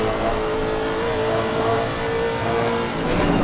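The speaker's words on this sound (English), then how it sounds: "we have a look at Lud Flores behind Marlowe, revving out that big V8 distinctive note you can hear there." A big V8 race car in a sim racing game at Paul Ricard revs hard with a sustained, loud engine drone and a steady tonal whine, holding high revs through a corner.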